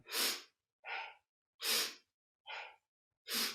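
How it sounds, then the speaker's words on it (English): Rhythmic yoga breathing from a Kundalini basic breath series: three strong, broadband exhales alternate with two softer, shorter inhales, each about half a second long, close and with no talking. "Breathing in to the left, breathing out to the right."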